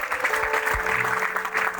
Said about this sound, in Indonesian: Boleh kasih tepuk tangan buat Tuhan Yesus